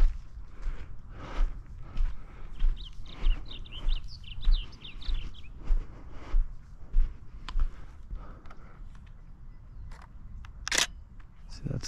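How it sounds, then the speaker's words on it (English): Blue grosbeak singing at Lake Hodges, California, a short run of quick warbling notes in the middle, fairly faint against repeated camera shutter clicks and footsteps nearby. "That's the blue grosbeak."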